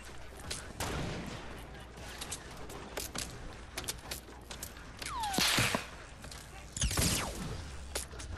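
Several gunshots in Fortnite crack out at scattered moments over steady game noise, with two louder bursts near the end, each followed by a whistling ricochet-like sweep.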